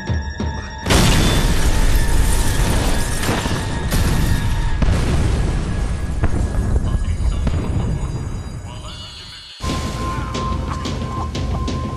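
A loud explosion blast in the Max Payne 3 shooter game, with a sustained roaring crash that fades over several seconds before a sudden cut to a quieter ambience.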